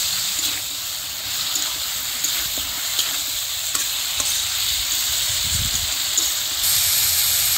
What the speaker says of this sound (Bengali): এখন আমি ভেজে রাখা আলু আর পটল দিয়ে দিব। এখন ভালো করে মিক্স করে নিব এরকম করে।